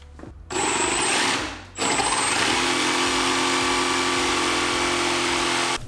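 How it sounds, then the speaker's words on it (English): A power drill bores shelf-pin holes through a Milescraft drilling template during a garage renovation, running loud and steady with a brief spin-down and restart near the start, then a continuous whine. "Holes for the shelves are drilled using a template from Milescraft."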